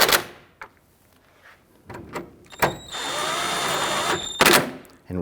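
A power drill or impact driver snugs down the headlight and bumper bolts on a 2011-2017 Nissan Quest, running in a steady whine of about a second and a half between short clicks and knocks of handling, close and fairly loud.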